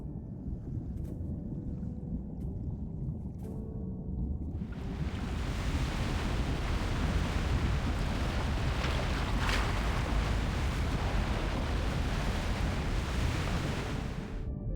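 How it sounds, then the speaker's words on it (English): Strong sea waves surge in a dense, constant roar in the game Love and Deepspace, starting abruptly after a few seconds of quieter ambience with faint chimes, then holding loud and steady to the end. "It's the waves. They're just too strong."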